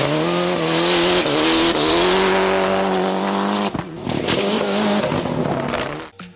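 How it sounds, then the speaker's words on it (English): Toyota Celica GT-Four ST205 rally car with a 3S-GTE turbo engine revving hard and sliding, a loud sustained engine howl with rising and falling pitch over squealing, skidding tyres, close by before cutting off sharply. "one being the mighty Toyota Celica GT-Four"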